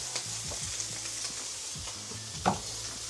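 Oil sizzles steadily in a frying pan of cooked ground turkey, a close and even hiss broken by light stirring scrapes and one louder clack near the end.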